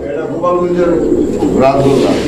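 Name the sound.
pigeons, Gopalganj boro golla breed, cooing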